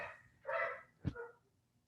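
A single dog barks indoors, two short yappy barks about half a second apart, moderately close, with no one talking over them.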